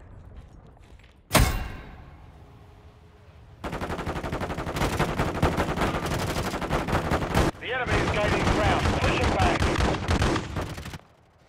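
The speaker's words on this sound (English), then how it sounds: "Friendly cruise missile approaching target." A cruise missile strike in Call of Duty: one sharp loud blast, then after a short lull a long roaring stretch of rapid gunfire and explosions that cuts off abruptly near the end.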